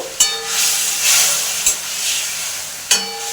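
Tomatoes and bay leaves go into a hot pan, set off a loud sizzle with sharp spitting bursts at the moments they land, then a steady frying hiss between them.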